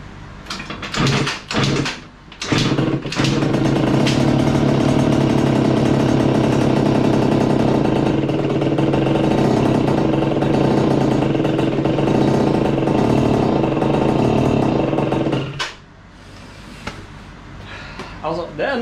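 Yamaha Aerox scooter engine with a faulty carburettor running after its first start, a loud steady drone held for about twelve seconds after a few sputtering catches, then cutting out; a voice speaks near the start.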